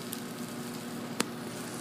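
Egg mixture for an omelet sizzling gently in a pan, a steady close crackle with one sharp pop near the end, no talking.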